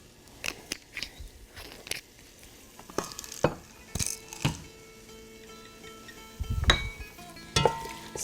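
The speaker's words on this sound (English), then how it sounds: "going to stir that in" Salt stirred into a lamb stew in a pot, a spoon scraping and clinking in scattered taps and knocks against the sides, quiet and close with soft bubbling between strokes.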